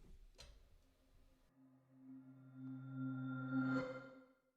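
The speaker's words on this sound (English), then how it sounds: "What that is it's a bell sound reversed." A reversed bell sound from a keyboard software instrument, drenched in reverb, swells up gradually from near silence to a peak and then cuts off abruptly, with no one speaking.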